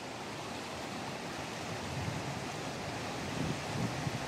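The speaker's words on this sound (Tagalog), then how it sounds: "malakas ang agos ng tubig" A strong current of water rushing through a stream in a forest, a steady, dense, unbroken roar with no voices.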